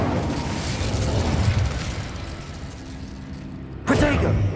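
An Incendio fire spell in the Hogwarts Legacy video game gives a loud, rumbling blast, followed by a sharp, bright burst near the end.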